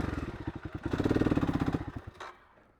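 A motorcycle engine on a desert road through a wash lugs and bogs down, throbbing in slow uneven pulses that swell, then fade out near the end, close and without speech.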